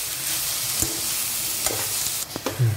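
Jaggery melts in a hot pan alongside roasted coconut, giving a soft low sizzle with a few sharp scrapes and clicks of stirring, close up and fairly quiet, no speech.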